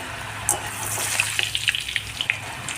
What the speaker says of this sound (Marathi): तर आता तर तेल देखील आपलं इकडे मस्त असं कडकडीत गरम झालेलं आहे तर आता थोडा थोडा करून आपल्याला हा कीज देखील मस्त असा तळून घ्यायचा आहे